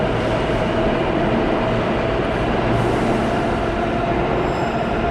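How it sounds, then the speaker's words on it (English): A New York City subway F train at Church Avenue station in Brooklyn makes a steady, loud roar of wheels and cars running along the track, with faint squealing and no voices. "I just got off the F train at the Church Avenue station."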